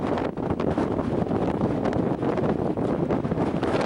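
Wind blows hard across the microphone on a mountain hike near Hallett Peak in Estes Park, a loud, steady, rushing roar with small gusting swells throughout.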